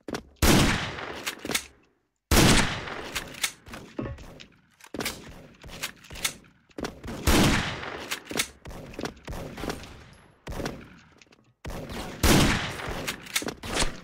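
Loud gunfire from the online shooter game Special Force, with rapid bursts and volleys that come in close succession and are broken only by brief pauses.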